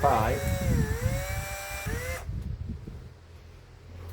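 A power drill bores a small hole into a 6mm cork stick with a 3.5 bit, its whining motor pitch rising and dipping for about two seconds before cutting off, leaving only outdoor wind noise.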